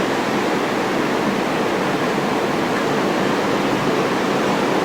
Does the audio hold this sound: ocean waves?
yes